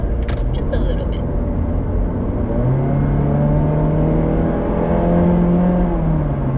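Engine of a 2019 Mazda 3 sedan with a naturally aspirated engine pulling away from a stop, a steady low drone with a rising tone partway through, heard from inside the cabin under continuous talking.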